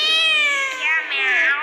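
A voice imitates a cat's meow as part of a recited Urdu devotional poem, a single drawn-out, clear, falling meow lasting over a second.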